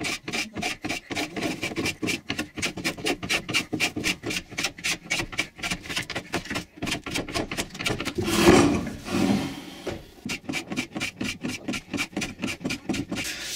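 A hand saw cuts through wood for a floating wooden coat hanger, with steady rasping back-and-forth strokes that pause briefly near the end, then resume, close up with no talking.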